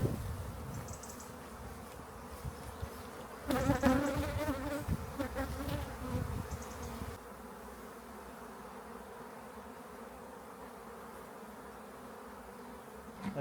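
A honey bee swarm buzzes outdoors in hot weather, a continuous drone of many wings. It swells louder for a few seconds, then settles to a fainter, steady hum.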